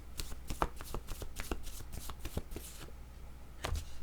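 Playing cards being shuffled and drawn in a card reading, a series of crisp riffling snaps and soft slaps up close, steady for a few seconds before a brief pause and a final flick.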